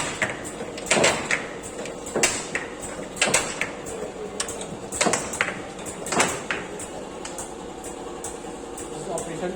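An all-in-one cylindrical cell sorting machine runs with repeated mechanical clacks and sliding thumps at a roughly regular pace over a constant background hum, close by.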